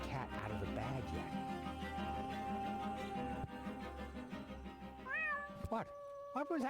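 A cartoon cat meows repeatedly in the adventure game Deponia, plaintive high rising and falling cries over a steady bed of game music, with a couple of sharper meows near the end.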